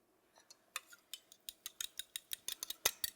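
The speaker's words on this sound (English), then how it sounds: "Just beat them up a little bit with a fork or a baby whisk" Two eggs beaten with a fork in a bowl for ricotta dumplings, a quick run of light, clicking taps that grow steadier and louder, close and alone with no talking.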